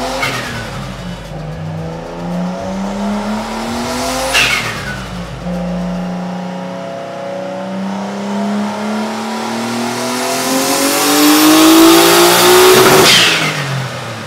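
A Nissan Skyline on a dyno during a full power pull, engine revving up through several gears with rising harmonics, brief shifts, and a loud climb to a high-rpm peak near the end before cutting off.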